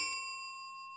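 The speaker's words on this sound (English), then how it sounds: "you might as well hit that notification bell while you're down there" A single bright bell ding used as a notification sound effect rings out clearly and then sustains, decaying slowly over about a second with no other sounds.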